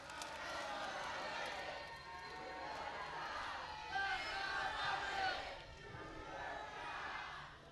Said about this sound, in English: This better be a loud cheer